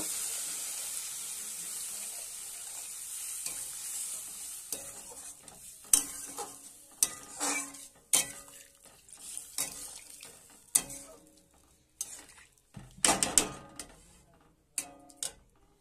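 Tangra fish curry cooking in a pan gives a soft sizzle as water is poured in, followed by repeated sharp clinks and scrapes of a spatula against the pan, irregular and close, with no talk.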